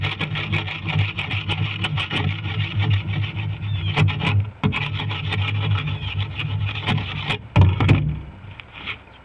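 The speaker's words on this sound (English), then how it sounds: "Scraping it lightly, and you can see that the barnacles come off just the bottom of that residue" A broken axe blade scraping barnacles off the bottom of a boat, giving a steady rough rasping with sharper clicks and knocks as the edge catches shells, close and continuous over a low background hum.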